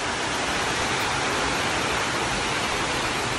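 Loud, steady rush of running water fills the whole span without a break, a dense broadband wash close to the microphone and no voices.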